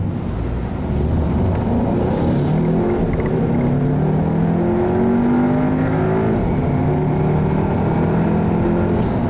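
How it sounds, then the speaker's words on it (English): Steady engine drone and road noise from inside a 2015 Audi A3 2.0T Quattro moving at highway speed, with a low hum and gentle rising tones as it gears up; no talking. "Getting up to highway speeds, you can hear this car is very quiet on the highway."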